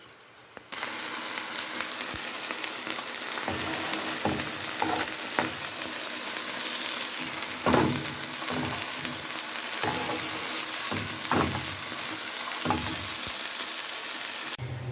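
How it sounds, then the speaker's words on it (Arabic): A kofta patty pressed into a burger shape sizzles in a pan, a close, steady hiss with repeated sharp clacks and scrapes from a utensil against the pan. "مستنيه بقى ايه الكفته لما تستوي، الكفته اللي هي عامله نفسها برجر"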